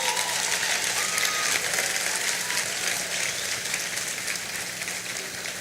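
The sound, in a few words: congregation applause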